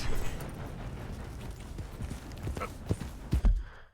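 Horse hooves clip-clop in Red Dead Redemption 2, a soft run of steady steps that ends in a few heavier, louder thuds before cutting off.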